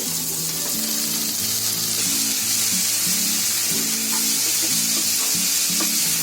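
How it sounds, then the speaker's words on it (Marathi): Spring onion and tomato hit a pan of vegetables for paneer bhurji, setting off a loud, steady sizzle with light stirring clatter and occasional utensil taps. "आता त्याच्यामध्ये कांद्याची पात आणि टोमॅटो टाकते."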